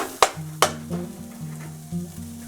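Bhuna mutton frying in a pan on medium heat, a steady close sizzle and crackle with two sharp clinks of a spoon or spatula against the pan near the start.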